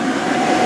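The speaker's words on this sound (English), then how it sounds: "As you can see, we've got our blower cranking away." An air blower cranks away steadily, inflating a Little Tikes Rocky Mountain River Race water slide, a loud, continuous rumbling roar with no breaks.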